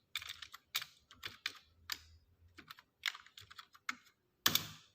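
Keys clatter on a computer keyboard while text is typed in Microsoft Word, quick bursts of taps with short pauses and a louder cluster of strokes near the end, close and alone with no talk.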